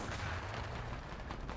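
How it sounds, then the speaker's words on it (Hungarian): A gunshot in the War Thunder combat video game sounds as a faint, muffled boom within continuous rumbling battle noise, without speech. "Nagyon szép lövés volt."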